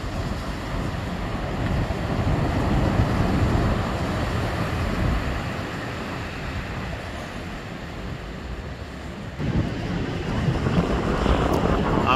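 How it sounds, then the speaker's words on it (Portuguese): Rough Atlantic surf at São Vicente bay on Madeira, with big swells of two to five metres rolling in as a steady, loud broadband wash, blended with wind buffeting the microphone and no talking. "Hoje o mar está um bocadinho exaltado, mas é normal, temos com ondas entre 2 a 5 metros"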